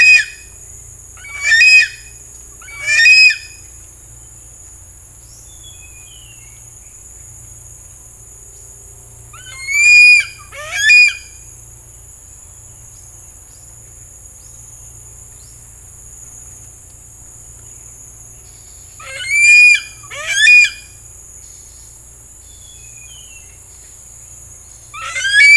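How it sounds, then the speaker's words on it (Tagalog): Bird giving an odd, hoarse call like coughing, heard as paired short raspy bursts repeating three times at intervals over quiet background with steady insect buzz. "kung mapapansin niyo mga kasinag yung huni niya, parang kakaiba. Oh. Parang may halak, parang may ubo na"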